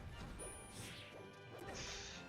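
Sharp smash and whack impacts with whooshing hits burst from a competitive Super Smash Bros. match as a Fox knocks a Marth off the stage, layered over a busy, noisy game mix.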